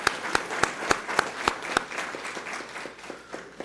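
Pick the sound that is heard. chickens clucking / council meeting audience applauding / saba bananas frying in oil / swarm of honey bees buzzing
council meeting audience applauding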